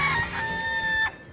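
Roosters and chickens in Key West, a loud close cock-a-doodle-doo crow with overlapping higher calls, heard alone for about a second before fading.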